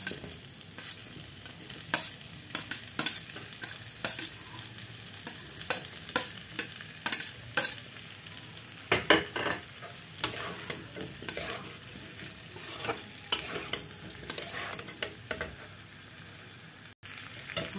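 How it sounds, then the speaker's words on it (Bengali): Pre-fried potatoes being stirred in a frying pan, with repeated scraping and clattering strokes of a spoon over a steady soft sizzle, close and continuous with no talk. "দিয়ে দিচ্ছি এর মধ্যে ভেজে রাখা আলুগুলো"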